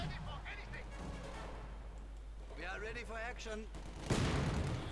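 Mortar fire in Company of Heroes 2, a muffled thump that lands near the end under battle noise, with someone commentating over the top through most of it.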